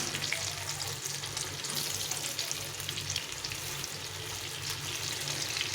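Pakora fritters deep-frying in hot oil, a dense, even crackle and bubbling sizzle that carries on steadily throughout, fairly quiet and close with no talking.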